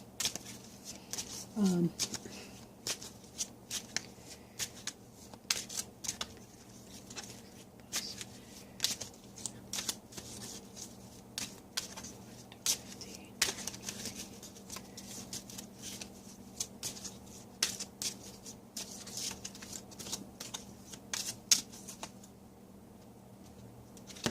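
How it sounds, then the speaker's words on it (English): Goddess Guidance Oracle cards being shuffled by hand, a quiet run of crisp riffling snaps and flutters in irregular bursts, with someone talking softly between them. "so I'm shuffling the Goddess Guidance Oracle cards by Doreen Virtue"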